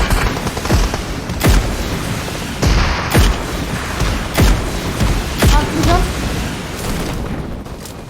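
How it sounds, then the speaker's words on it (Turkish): Rocket launcher fire in PUBG Mobile's heavy-weapon mode: a loud barrage of repeated booming blasts, roughly every second, over dense rumbling battle noise. "roket atacak mısın? Atayım kardeşim. Atıyorum"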